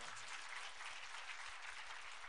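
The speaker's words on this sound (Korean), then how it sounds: "박수하겠습니다." Sustained applause from a church congregation fills the space, a dense, even wash of clapping at steady volume with no voices over it.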